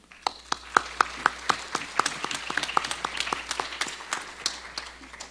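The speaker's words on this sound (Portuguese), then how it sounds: "Gostaria de pedir uma salva de palmas a cada uma delas." Sparse audience applause for award winners at a law panel event, with a few people clapping in a loose rhythm, the individual claps distinct and moderately close, thinning slightly toward the end.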